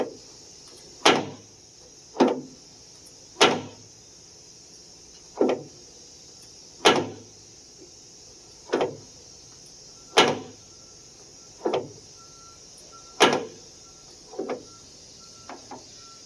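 A door on an Acura Legend car makes a repeated popping click, about a dozen sharp pops spaced roughly a second apart, close and alone with no talk.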